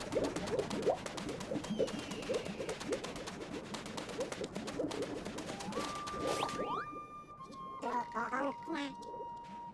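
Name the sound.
bird cooing in Super Mario Odyssey video game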